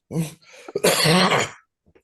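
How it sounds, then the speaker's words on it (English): A few harsh, dry coughs close to the mic, two quick bursts followed by a longer rasping one, then a faint trailing sound. "I got this dry cough"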